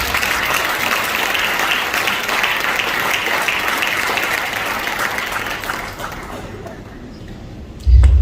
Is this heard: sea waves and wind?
no